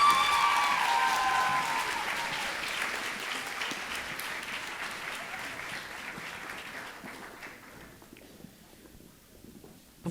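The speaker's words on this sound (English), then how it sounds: "Let's give all of our contestants one more huge round of applause." Audience applause for contestants at a high school pageant, a loud sustained wash of many hands that gradually fades over about ten seconds.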